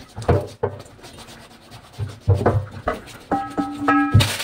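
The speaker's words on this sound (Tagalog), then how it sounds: "I-rub natin ng asin para matanggal yung mga dumi-dumi" An eggplant is rubbed with salt by hand to clean it, giving short bursts of close, gritty rubbing and light knocks, spaced irregularly with quiet gaps.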